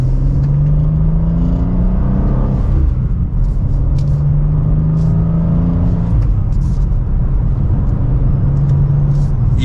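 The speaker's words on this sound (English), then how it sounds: "And with an acceleration from second gear," A 2023 BMW M2 pulls hard from second gear, its engine note climbing steadily in a loud, continuous rumble with rising pitch sweeps, heard from inside the car.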